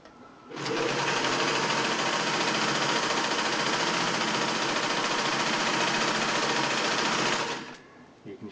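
A Singer 600E sewing machine runs an oval decorative stitch pattern, a continuous loud mechanical whir lasting about seven seconds, starting and stopping abruptly with quiet before and after.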